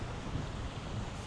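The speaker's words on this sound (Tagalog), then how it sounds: "Malakas ng hangin." Strong wind in Alberta, Canada roars and buffets the microphone in a dense, steady rumble, with a faint wash of water in the background.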